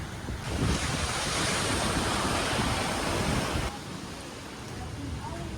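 Sea waves wash continuously onto the shore beside a small seaside hotel in northern Bali. The surf is loud and close, with wind buffeting the microphone, and it drops a little toward the end.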